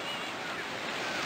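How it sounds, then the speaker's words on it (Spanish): Sea waves washing in with a steady broad rush, mixed with wind buffeting the microphone, no clear voices. "mira el efecto y las olas del mar como se escuchan"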